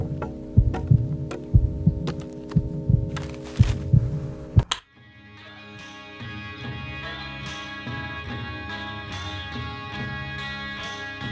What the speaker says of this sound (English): heart beating fast and aching, beginning to soar